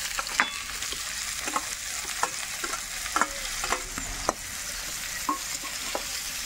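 Chopped onions frying in goat fat, a continuous bright sizzle with repeated scraping stirs and utensil clicks, close and steady throughout.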